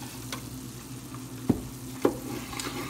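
Hamburger steak mixture seasoned with garlic and salt sizzles steadily as it browns in a pan, a constant frying hiss. Two sharp clicks or knocks cut in near the middle.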